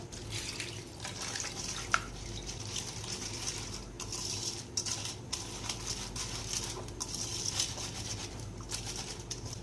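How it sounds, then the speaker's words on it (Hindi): Musk melon seeds being mashed by hand in a strainer while water is gradually added, giving a steady wet trickling and squelching with soft splashes, close and continuous. "और इन बीज को इस तरह आपने मसलना है छन्नी के अंदर।"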